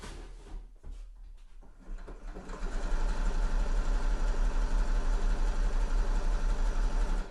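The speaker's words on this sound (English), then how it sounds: "I'm just sewing together my pocket bag and my pocket facing." A home sewing machine stitches a pocket bag to a pocket facing for a sweatshirt. A few soft handling knocks come first, then the motor starts up and runs as a loud, steady, rapid whir until the end.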